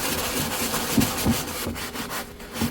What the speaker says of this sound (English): we're gonna take our scrubby and get these corners really well